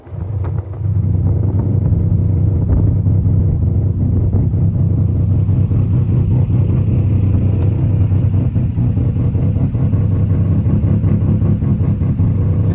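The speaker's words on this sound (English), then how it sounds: "Like it just sounds like the motor's gonna explode." Mazda RX-7 FD3S with a high-power 13B rotary engine and six-speed gearbox, revving loudly and continuously up close, a raw buzzing rotary roar that holds steady throughout with no talking.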